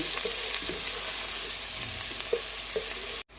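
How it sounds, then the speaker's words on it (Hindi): Onions sautéing in a pan for shalgam chicken: a steady close sizzle with light, intermittent scraping stirs, cut off abruptly by a brief silence just before the end. "ये मैंने प्याज को सौते कर लिया है"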